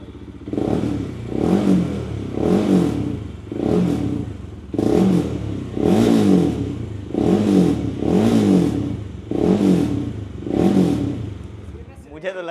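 A Bajaj Pulsar motorcycle styled as a Hayabusa is revved hard about ten times in a row, each sharp throttle burst rising and falling close by in a steady rhythm.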